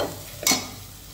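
A pan of chickpea curry sizzles faintly, and a single quick scrape marks a stir through the frying mixture, close and soft, with no voices.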